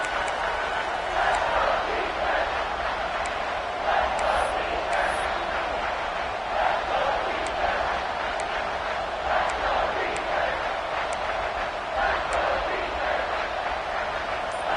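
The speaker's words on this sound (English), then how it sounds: "with this place rocking, the crowd forces a false start." Loud, sustained roar of a packed football stadium crowd at a Notre Dame versus Pitt game, a dense steady wall of noise with surging swells and no pause across the whole stretch.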